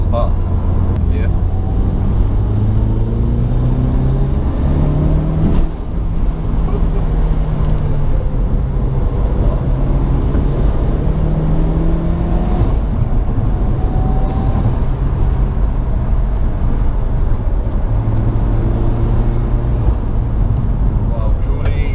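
A Mitsubishi Evo 5 launched hard, its engine droning low and rising in repeated pitch sweeps through the gears, loud and close from inside the cabin, with occupants talking over it.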